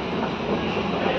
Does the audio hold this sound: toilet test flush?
no